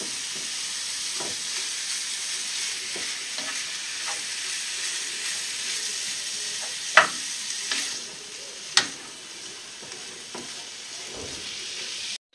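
Ground beef mince frying in a pan for stuffed kibbeh, a steady close sizzle throughout with occasional sharp scrapes and clicks of stirring.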